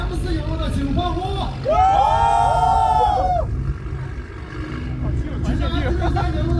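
A crowd at a car rev battle cheers and whoops for the M4 in a brief loud burst rising over background car noise and babble.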